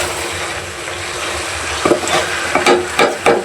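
Taro and mixed river fish stirred and sautéed in a pan, a steady frying hiss with a few spoon-scrape strokes near the end, close and alone with no talk.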